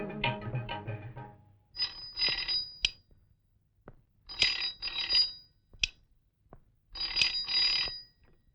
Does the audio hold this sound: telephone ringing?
yes